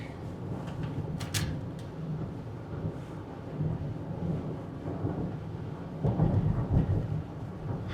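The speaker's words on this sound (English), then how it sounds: "Because it's definitely raining." Steady rain with low rumbling thunder swelling outdoors, a louder rumble building near the end, no talk.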